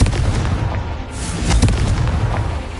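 A Confringo spell blast in Hogwarts Legacy erupts as a loud, close booming burst with rumbling low crackle that stays dense for about three seconds.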